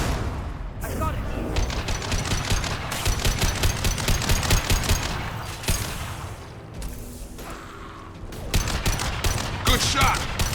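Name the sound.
gunfire in Mass Effect 2 video game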